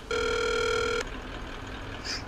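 Phone call to a potential buyer about selling a Volga car. A single clear electronic ringback tone lasts about a second, then quiet line noise follows.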